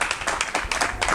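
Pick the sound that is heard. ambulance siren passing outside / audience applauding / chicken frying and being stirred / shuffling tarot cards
audience applauding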